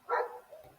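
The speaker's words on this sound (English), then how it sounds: "Sorry about the dog, not mine." A single dog bark, short and moderately faint, with a brief trailing whine and no voices.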